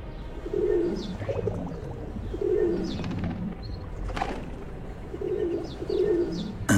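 Pigeons coo repeatedly in soft, low, rhythmic phrases near a beach, with a few faint chirps and a brief rustle among the calls.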